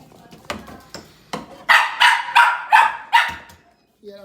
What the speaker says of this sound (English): Yeah, that's my dog barking.